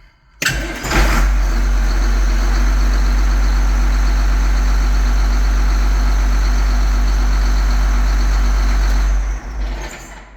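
A Case 7250 Magnum tractor engine cranks and fires at first start-up, then settles into a steady, loud, close diesel idle that runs on evenly before cutting off near the end.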